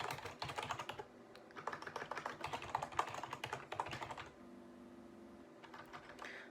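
Rapid typing on a computer keyboard while coding, close and crisp, with bursts of keystrokes separated by short pauses and a quieter hum between.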